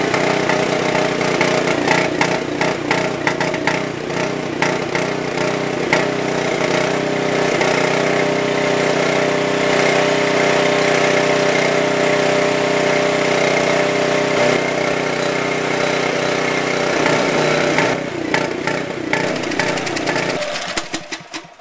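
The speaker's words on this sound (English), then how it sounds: "Now the fuel is running off of the tank." Portable generator engine running on propane fed from a tank after a conversion-kit install: a steady, loud mid-pitched engine drone holds evenly throughout before tapering slightly at the very end, with no talking.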